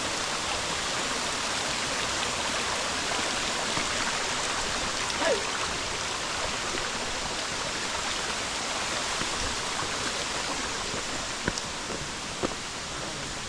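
A small river on a mountain trail up Mt. Labo in Camarines Norte, flowing in an even, dense wash of water that holds steady throughout, with a few faint clicks over it and no voices.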